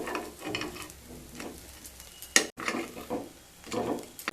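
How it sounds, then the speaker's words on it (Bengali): Bun dosa fries in a pan, a soft, steady sizzle broken by scraping and turning noises and one sharp clatter partway through, with no talking. "দুটো সাইড এইভাবে খুব ভালো করে ভেজে নেব।"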